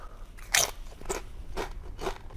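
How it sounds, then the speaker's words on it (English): Close, crisp bites and crunches into a tortilla chip topped with Sriracha: one loud snap followed by three softer crunching chews spaced about half a second apart. "Tortilla chip with Sriracha added to it."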